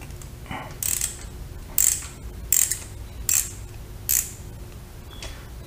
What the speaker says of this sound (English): now we're going to take our 8mm and we're going to loosen it